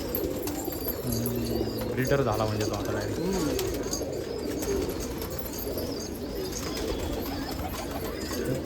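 Allahabadi pigeons coo in low, repeated throaty notes close by, with a steady background hum and someone talking over them throughout.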